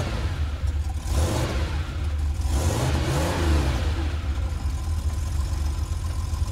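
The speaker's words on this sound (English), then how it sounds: "Now let's imagine you're in a sports car." Porsche 911 sports car engine revving, a steady mid-pitched drone with two rising surges around the middle, loud and close with no voices.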